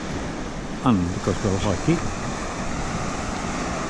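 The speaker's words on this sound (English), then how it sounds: "Quite windy, blowing that way." Wind blowing steadily at the seaside in Abersoch in September, a constant broadband rush filling the whole clip, with someone speaking briefly over it near the start.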